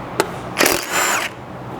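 A power tool with a 10mm socket removes a bolt from the roof of a 200 Series Land Cruiser, with a brief click followed by two short whirring bursts, close and loud.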